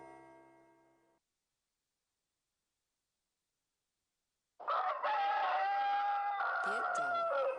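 A rooster crows once, loud and close, for about three seconds after a long silence, following a brief unrelated tonal sound at the start.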